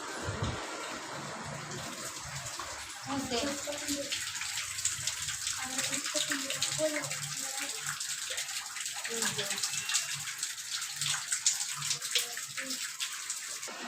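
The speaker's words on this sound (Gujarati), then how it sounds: "અત્યારે વરસાદ શરૂ થઈ ગયો છે" Rain coming down steadily in a dense, even hiss, heard close by, with a person speaking over it for much of the time.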